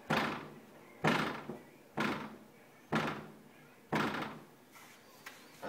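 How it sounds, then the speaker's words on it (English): A heel kicks the back of a door five times in a slow, even rhythm, each blow a loud hollow thud with a short decay, close up and without talk. "I will kick the back of the door with my heel."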